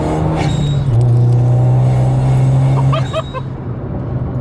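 A 250 bhp Abarth 595 hatchback with a TD04 turbo roars as it accelerates hard, heard from inside the cabin, a deep steady drone rising in pitch, with a brief exclaimed voice partway through.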